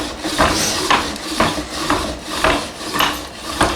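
A wooden pump drill spins against a wooden fireboard for friction fire-making, giving a rhythmic scraping rub that pulses about twice per second, close and steady with no talk.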